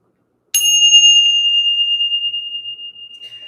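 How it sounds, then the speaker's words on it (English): A single bell is struck once to clear the energy at a spiritual reading, giving a loud, bright ring that sustains and slowly fades, heard alone. "We're going to ring the bell."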